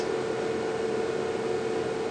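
A Brother HL-3075CW printer calibrates after a drum replacement, giving off a steady, even mechanical hum with a faint tone. It runs unbroken and close by, with no talking.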